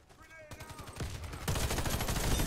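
M4A1 Classic rifle fire in Warface on PS5 starts quiet, then grows into rapid, rhythmic bursts of shots that get louder and denser toward the end.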